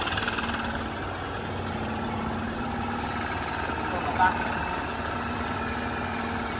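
A Stihl BR800c backpack leaf blower engine idles steadily at a low, even drone, fairly quiet and unchanging throughout.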